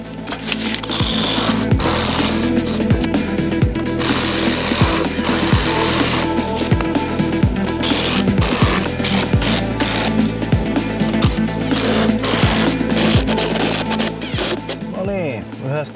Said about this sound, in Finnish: yhdestä oli unohtunut porata noin reijät